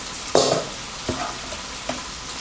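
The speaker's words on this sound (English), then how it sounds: "Stir fry until the bean paste coats the surface of the bitter gourd." Bitter gourd and bean paste stir-fried in a pan, with a soft sizzle and a few sharp spatula scrapes and clacks at irregular intervals, close and moderately loud, no voices.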